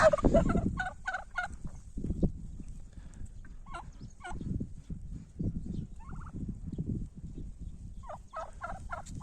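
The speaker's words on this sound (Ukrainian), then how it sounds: "Це у нас ті індички, що приїхали з вагою 7 плюс кілограм." Seven-month-old Red Bourbon and Bronze turkeys gobble in repeated warbling bursts over scuffling and rustling on the ground, close by in a farmyard, with no one speaking.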